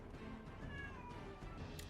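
A quiet cat meows a couple of times against faint background noise, with no talking.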